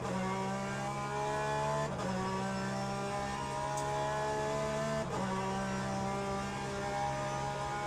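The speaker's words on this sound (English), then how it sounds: "Good to see some Astons on the track." Aston Martin race cars lap the track in the Le Mans Ultimate racing game, with a steady, fairly quiet engine drone and two short dips where the pitch shifts.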